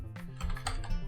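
Quick, uneven keystrokes on a computer keyboard, a close clattering run of clicks of varied loudness, with no talking.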